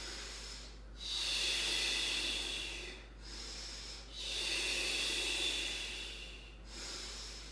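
Slow, deep breaths during a stretching exercise on a mat, three long airy inhale-exhale cycles close to the microphone, soft and steady with brief pauses between, over a faint low hum.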